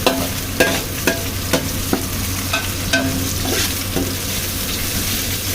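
Aromatics stir-fried in a pan for a braised soy-sauce sea bream dish give a steady close sizzle, broken every half second or so by sharp spatula scrapes and clacks against the pan, with no talking.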